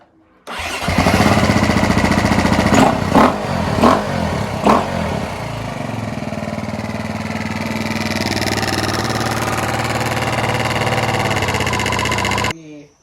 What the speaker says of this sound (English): we can turn the engine on so the oil will be distributed throughout the entire block